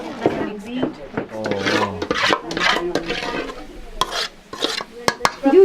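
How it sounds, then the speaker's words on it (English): Walnut paste and apricot pickle are stirred into a cooked dish of large pasta-like chunks in Gilgit-Baltistan. Close, scraping and rubbing stirs repeat with knocks throughout, under occasional voices. "And then she poured in that walnut paste, that pickle, and then stirred that around."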